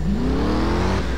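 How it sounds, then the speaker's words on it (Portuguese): A Dodge Challenger in Driver: San Francisco roars loudly as it revs and accelerates, a deep rising engine drone close and up front with no talk over it. "É um Dodge Challenger. Ó, o ronco."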